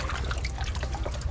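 A sock is scrunched and squeezed in a container of water, giving brief wet trickling and dripping sounds over a steady low rumble, with a voice talking over it.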